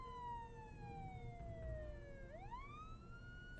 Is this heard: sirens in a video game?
yes